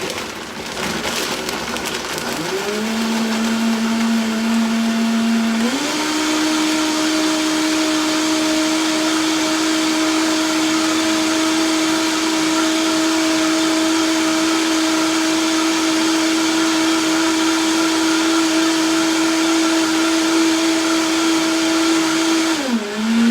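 A blender whirs through a basic smoothie in a loud steady drone that climbs in pitch twice as the speed rises, running close for over twenty seconds before winding down at the end, with no talking.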